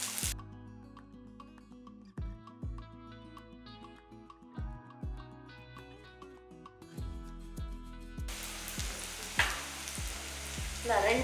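Veg liver masala sautés in a pan over background music with piano-like notes, and a loud hissing sizzle swells up and dominates the last few seconds.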